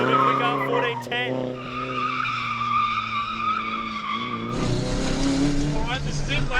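A Nissan 180SX drifts sideways across the line, its tyres skidding in a long, loud, wavering squeal. The howling engine sounds close, and a harsher, wider screech of rubber rises near the end.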